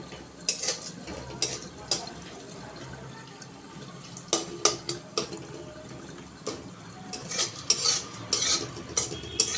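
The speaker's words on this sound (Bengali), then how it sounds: "শুকনো নারকেল একটু ভেজে দিয়ে দিতে হবে" Dried coconut frying in a pan for mutton korma, with soft sizzling and sharp clinks of a spoon stirring against the metal in bursts of scraping throughout.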